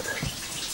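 Water trickles and rushes steadily through a greenhouse watering pipe, a soft continuous hiss and gurgle heard close and fairly quiet.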